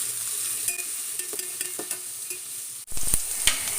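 Slit green chillies and curry leaves are sautéed in a pan: a bright crackling sizzle with frequent spatula scrapes and knocks, then a louder burst of stirring toward the end.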